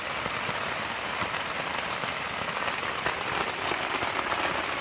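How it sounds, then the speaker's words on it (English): Rain falls steadily on a tent at night along a thru-hiking trail, a dense, even patter of drops striking the fabric close by, with no talking. "It literally has rained on me tonight."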